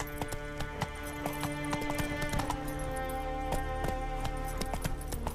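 Horse hooves clip-clop steadily in The Witcher 3 video game, a brisk rhythmic clatter of close hoofbeats with faint game ambience beneath.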